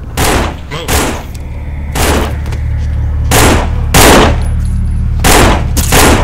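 Bursts of gunfire from the zombie survival game No More Room In Hell, loud and close, firing in several rapid clusters separated by short gaps over a steady low game hum.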